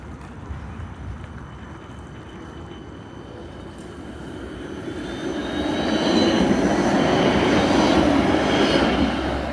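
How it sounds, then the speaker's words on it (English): A Helsinki tram, route 7, rumbles past, its rolling wheels swelling louder with faint metallic squeals rising toward the end; no talking. "This is tram number 7."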